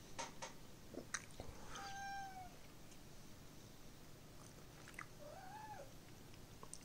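A cat meows twice, short rising-falling calls, fairly close in a quiet home room where a faint low hum runs underneath.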